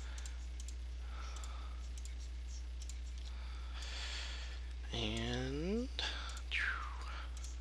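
Short synthetic selection chirps and rising tonal sweeps from repaint software for a Level-D Simulations aircraft, heard over faint mouse clicks and quiet speech.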